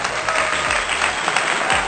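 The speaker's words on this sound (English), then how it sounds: "let me do the honors of giving you a round of applause" A short burst of crowd applause plays at a steady level for under two seconds, like a brief round of clapping.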